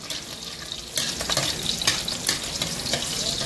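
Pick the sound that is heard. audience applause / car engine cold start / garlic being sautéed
garlic being sautéed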